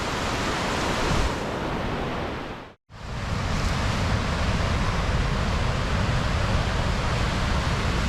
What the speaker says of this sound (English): you can see the downstream water kind of running in that upstream, swirling back in